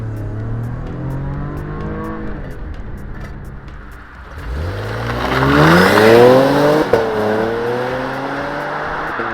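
A Porsche Macan Turbo SUV accelerates with a loud, rising engine note climbing through the revs, a brief dip, then a strong surge and an upshift, heard up close without talk.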